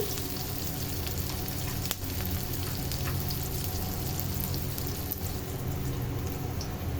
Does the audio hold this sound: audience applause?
no